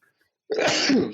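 A single abrupt sneeze bursts out close to the microphone after a moment of silence, loud and breathy, lasting about half a second.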